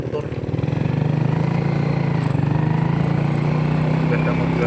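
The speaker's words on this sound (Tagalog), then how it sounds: "Ayun, mayroon pang umakyat na isang motor." A motorcycle climbs a mountain road near a hilltop overlook, its engine droning steadily and loudly close by with a rough, pulsing tone that holds through the whole stretch.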